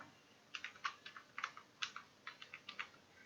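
Typing an address on a computer keyboard, a quick irregular run of soft, close key clicks in small bursts, faint and without talk.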